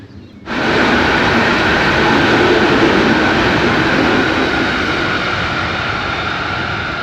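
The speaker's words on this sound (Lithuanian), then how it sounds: "Bet krovininis traukinys ganėtinai greitai lekia." A freight train speeds past at close range, its loud, steady mechanical roar rising sharply within the first second and then holding nearly level, only easing slightly toward the end.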